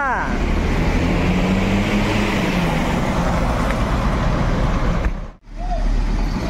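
Volvo bus pulling out of Kampung Rambutan terminal, a loud, steady diesel engine rumble with a rising tonal whine partway through, then a brief sharp dip and recovery near the end.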